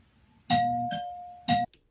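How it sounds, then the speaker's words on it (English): A two-tone doorbell chime rings once, a clear ding followed by a dong, in an otherwise quiet room. "Now her doorbell is ringing?"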